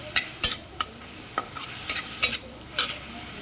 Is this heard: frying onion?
yes